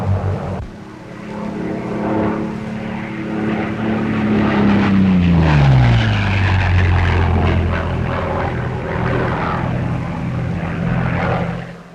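Propeller drone of a Mustang Army Cooperation fighter plane, a loud steady engine roar whose pitch drops midway as the aircraft passes close by, continuing alone with no talk.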